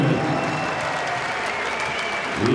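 Arena crowd applauding and cheering after an MMA bout between Watling and Cohoon, a loud dense roar of clapping that holds steady and swells again at the end.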